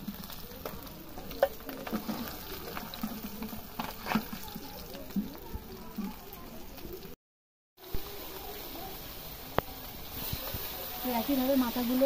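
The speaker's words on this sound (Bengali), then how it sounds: "একইভাবে মাথাগুলো ভেজে নেব।" Fish heads frying in oil in a pan, with a steady close crackle and sizzle punctuated by stirring and scraping and a brief gap of silence partway through.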